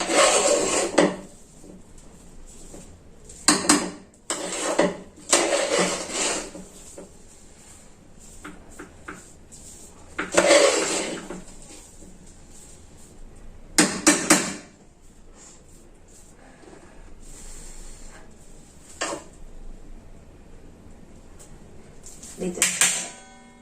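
Vegetable pulao being mixed in a pressure cooker after one whistle, with intermittent scraping and clanking bursts of a utensil against the pot, loud and close, separated by quieter pauses.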